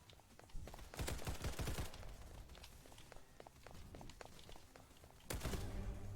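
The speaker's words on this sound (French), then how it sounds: "On tire les balles qui sont en trop dans mon chargeur" Rapid bursts of gunfire in the Roblox shooter Hypershot, a dense clattering volley of shots, then scattered thuds and footsteps, and another loud burst near the end, all close and punchy.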